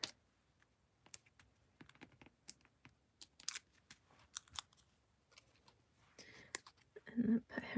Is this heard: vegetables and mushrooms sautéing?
no